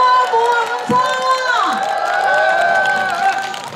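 A festival crowd at a cherry blossom festival song contest cheers loudly and continuously, with shouts and whoops blending into a sustained roar that lasts several seconds.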